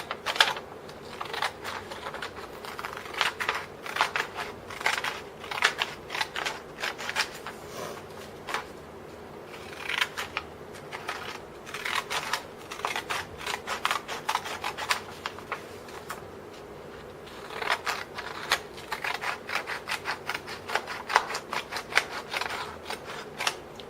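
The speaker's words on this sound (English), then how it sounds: "I would cut the other edges nice and slow" Scissors slowly cutting the ink-covered paper border from a print, a steady run of close crisp snips and rasping paper rubs with short pauses, no talking.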